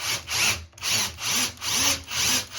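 A power drill bores into a bathroom cabinet to fit handles, sounding close and loud in five even, rhythmic bursts with short pauses between them. No one speaks.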